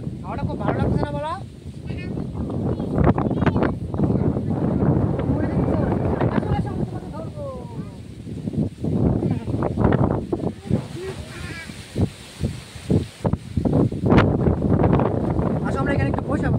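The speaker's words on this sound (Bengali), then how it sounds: "হাওয়াটা খুব ভালো লাগতেছে না বলো?" Outdoor wind in Taleswarguri village buffets the microphone with a constant rushing hiss and gusty rumble, while people talk nearby throughout.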